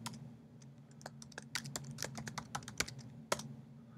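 Someone types a password on a Mac computer keyboard at close range: a quick, quiet run of key taps with slight pauses, over a low steady hum.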